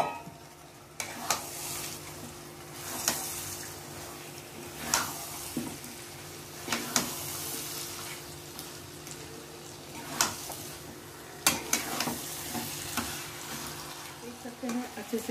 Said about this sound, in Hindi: इसको अच्छे से भूनेंगे चिकन के साथ।